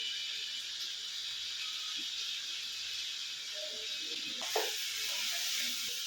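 Chopped tomatoes with salt and chili powder sizzle in a pan with drumsticks, a continuous bright hiss that swells louder partway through after a brief clank, with no talking.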